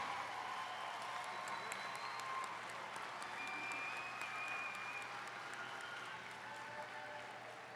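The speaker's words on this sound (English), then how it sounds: "Let's give them a round of applause." Audience at a university graduation ceremony applauding, a faint distant steady wash of clapping from a large crowd in a big hall, fading slightly at the close.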